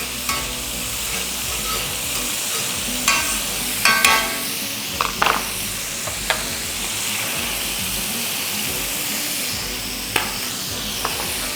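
Seafood stirred through hot oil in a paella pan for an authentic Spanish paella: a steady sizzle runs throughout, broken by several sharp scraping and clacking strokes of the utensil against the pan, with no talking.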